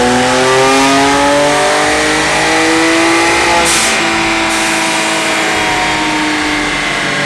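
A BMW 335i with a Stage 2 tune on E30 fuel revs hard on a dyno, its engine pitch climbing steadily in one loud, sustained pull with no voices.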